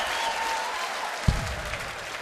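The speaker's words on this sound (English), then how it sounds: "Biggest cheer of the day at Lakeside" Darts crowd at the Lakeside BDO World Championships in a sudden loud burst of cheering and applause after a maximum, rising over steady arena murmur and staying loud to the end.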